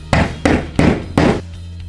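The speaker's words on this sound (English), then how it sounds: "Insert the plastic anchors into the holes and hammer them into place." Four sharp hammer blows, evenly spaced, drive plastic anchors into drilled wall holes while a wall-mounted air purifier is installed; each strike is close and loud with a short ringing decay.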